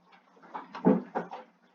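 A door is shut nearby with a short run of knocks and thumps, one heavier bump in the middle of a brief handling sequence.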